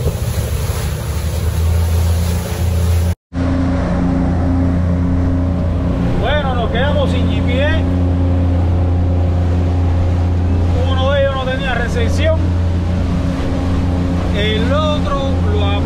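Big waves in bad weather slap and rush against a motorboat crossing to Bimini, under a steady loud engine drone with wind, while people talk over the noise.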